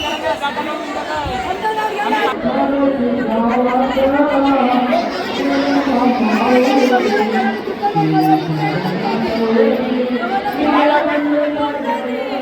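A large crowd of devotees at the Kelamba Devi temple in Kharoshi during a nine-day festival, filling the air with a steady, loud babble of many overlapping voices close by.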